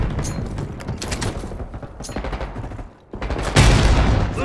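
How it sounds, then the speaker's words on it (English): Gunfire and a frag grenade blast in the Black Ops 6 video game, with an XM4 rifle in play: dense rapid shots rattle for about three seconds, a brief lull follows, then a loud, booming burst closes the clip. "Frag going out."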